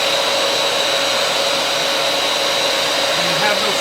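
A Bissell LiftOff carpet cleaner motor runs loudly and steadily up close, a constant whirring roar with a faint rising tone near the end.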